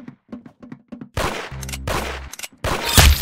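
Gunfire in the Roblox game Arsenal: a quick run of light shots, then loud bursts of rapid automatic fire with a heavy low thump, stopping and restarting several times.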